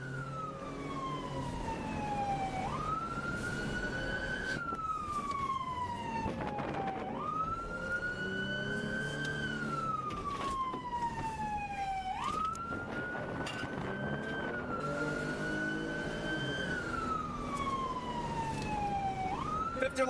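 Police car siren wailing during a pursuit, the tone sweeping up and down in long repeated cycles, loud and continuous over road noise, with faint radio-like voices at times.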